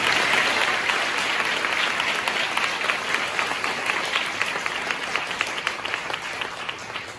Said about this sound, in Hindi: एक बार जोरदार ताली बजाए परमेश्वर को।